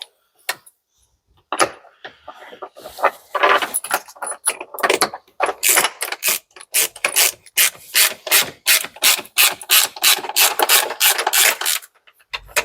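Screws being tightened while a Mopar Sunrider flip top is mounted, with plastic washers isolating the hardware from the metal: rapid repeated rasping, ratcheting strokes, close and fairly loud, growing steadier toward the end, with no talk.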